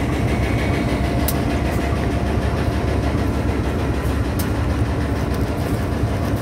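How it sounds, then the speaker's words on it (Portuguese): Two Rumo diesel locomotives, numbers 782 and 783, being towed by an MRS train, give off a loud, steady, close low-pitched engine rumble with a few faint metallic ticks, and no talking. "Essas duas locomotivas Rumo."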